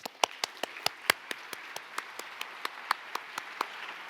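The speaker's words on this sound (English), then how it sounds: "Please give them all a round of applause" Applause from the audience at the APA Heritage Awards 2023 ceremony in San Francisco, honouring the volunteers: sparse, distinct claps from a fairly small group, several sharp near slaps over a soft patter, no talk.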